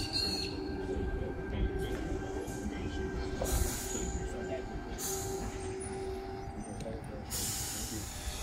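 A train at Doonside station platform rumbles steadily with wheel squeal and hiss throughout, several brief sharp bursts breaking through; voices are faintly audible in the background.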